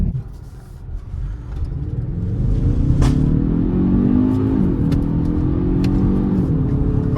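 A 2023 Kia Stinger GT Line accelerates hard on throttle, its engine rumble swelling from inside the insulated cabin into a sustained, rising drone with a brief tick partway through.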